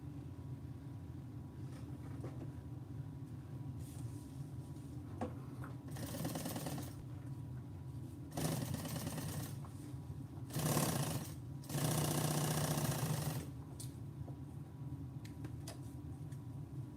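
An industrial sewing machine with a turned-down motor hums steadily, with several louder bursts of fast stitching that start and stop, close and fairly quiet.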